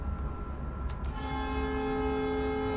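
An ICE 4 high-speed train in the Train Life simulation game blasts a sustained, loud two-tone horn that starts about a second in and holds steady over rolling rail rumble.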